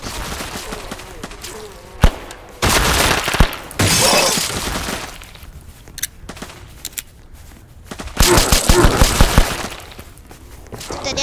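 Gunshots fired at zombies in a Roblox game, several separate bursts of sharp, crackling reports with quieter gaps between them and some talk in the background.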